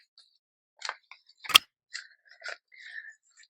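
Book pages trimmed down with scissors to make a small notebook: a few separate crisp snips and paper rustles close by in an otherwise quiet room, one sharper cut standing out.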